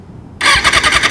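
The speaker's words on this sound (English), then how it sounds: "So I'm gonna do a startup for you guys" A 2013 Kawasaki ZX6R 636 sport bike engine, already warm, cranks and fires after a brief quiet moment, catching into a loud, close, pulsing idle with a rapid rhythmic beat.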